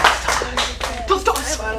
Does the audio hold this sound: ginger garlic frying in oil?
no